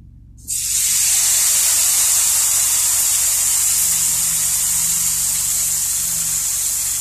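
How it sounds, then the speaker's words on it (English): Nigerian pancake batter hits hot shallow oil in a pan and erupts into a loud, steady sizzle that starts abruptly and holds constant, close up, with no talking. "The oil is ready. It's time for us to start frying."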